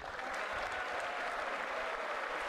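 Republicans in a chamber during the State of the Union rise and applaud, a dense, steady wash of clapping that fills the whole moment without a break.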